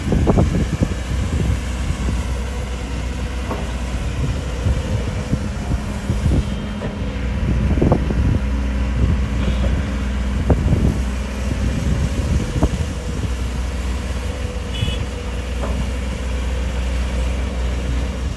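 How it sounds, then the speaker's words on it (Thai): Strong wind buffets the microphone near a SANY SY215C-10 excavator working at a reservoir, a steady rough roar with low engine rumble and scattered knocks throughout. "ต้องพยายามยืนหันหลังให้กับลมครับ ค่อนข้างลมแรง"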